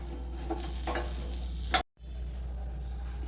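Peanuts, garlic and green chilli dry-roasting in a pan without oil, a faint close crackle with light scattered ticks and stirring under a low steady hum, broken by a brief silent gap before the hum returns.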